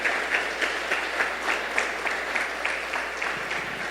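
A church congregation applauding together during a service in a fairly even rhythm, claps pulsing steadily at a moderate distance with no talking.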